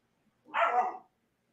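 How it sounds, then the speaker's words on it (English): A dog gives one short bark, heard alone against near silence and fairly faint. "See, the dog agrees."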